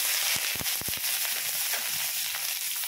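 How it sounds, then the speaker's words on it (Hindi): Chopped cabbage, carrot, onion and tomato are fried in a kadhai, giving a soft, steady sizzle broken by several sharp clicks and scrapes of stirring near the start. "तो इसको अब हम डाल देते हैं कढ़ाई में और थोड़ी देर भूनेंगे।"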